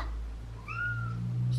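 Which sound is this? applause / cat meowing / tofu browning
cat meowing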